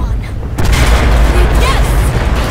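Explosion in the video game Battlefield 4 during the Tashgar mission on hard difficulty, a loud booming blast that starts abruptly about half a second in and rumbles on through the rest of the clip amid gunfire-like noise.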